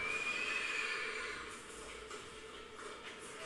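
A horse whinnies in a scene from the TV series Diriliş Ertuğrul, a drawn-out call over a dense, steady background of score and ambience, with no talking.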